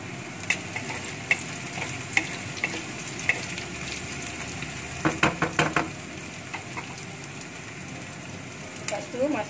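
Dried chilies, bird's eye chilies and curry leaves sizzle steadily in hot oil, stirred now and then with clinks of a utensil against the pan, including a quick cluster of scrapes midway and more near the end.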